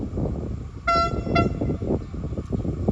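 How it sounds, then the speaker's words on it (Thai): A QSY 2505 locomotive horn sounds two short blasts in quick succession over the steady rumble of a passing Thai express train with a very quiet engine. "เสียงวีดมาแล้วนะครับ"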